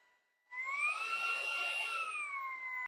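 A Honiture Y10 cordless vacuum cleaner starts up after a quiet moment and runs at a steady, high-pitched whine with an airy rush. It stays close and even, with no talking.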